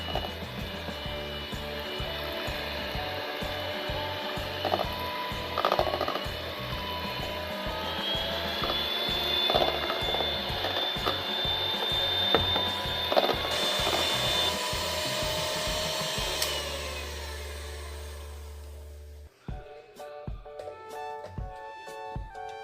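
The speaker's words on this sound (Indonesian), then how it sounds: "Kita aduk adonannya menggunakan mixer listrik" Electric mixer whirs through martabak batter for a teflon pan recipe, a steady motor drone with rhythmic knocking against the bowl, moderately loud, before cutting off near the end.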